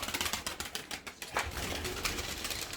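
Pigeons in a backyard coop, a busy, close flurry of rustling and soft coos with short bursts of wing flapping.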